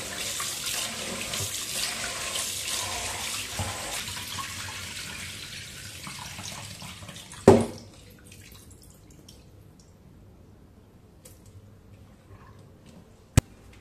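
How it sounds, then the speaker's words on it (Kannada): Tap water runs over boiled rice being washed in a pot, a steady close rushing splash that stops with a sharp knock partway through, leaving near silence with a faint drip and a final click. "ಇದರಿಗೆ 1-2-3 ಸಲ ವಾಶ್ ಮಾಡ್ಕೊಳ್ತಾ ಇದ್ದೇನೆ."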